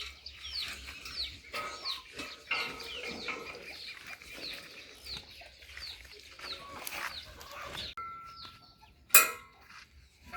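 Chickens clucking on a rural farm ahead of ploughing a rice field, a steady run of soft clucks and calls from several birds at moderate distance, with a sharp metallic clang near the end.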